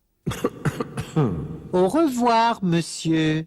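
A person coughs several times in short bursts, then speaks a brief phrase, close and clear.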